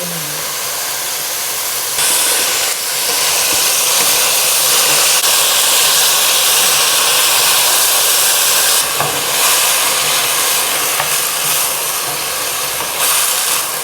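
Vegetables stir-frying in a little olive oil in a pan, a loud continuous sizzling hiss that swells and eases as the food is tossed, with brief clatters of utensils.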